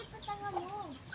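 A chicken clucks and croons softly at close range, a few low warbling notes over quiet background hiss.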